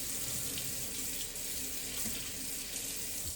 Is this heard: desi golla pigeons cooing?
no